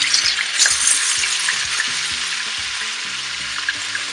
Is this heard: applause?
no